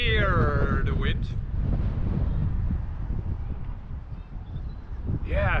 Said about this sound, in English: You can definitely hear the wind.